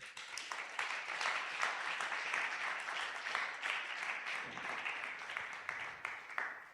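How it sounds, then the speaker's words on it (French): A congregation at a Sunday church service of praise and thanksgiving bursts into loud sustained applause, dense clapping rising and falling for several seconds with faint cheering mixed in. "Est-ce qu'on peut acclamer très fort?"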